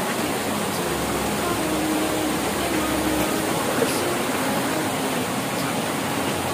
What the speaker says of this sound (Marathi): धबधब्याजवळ आलेलो आहोत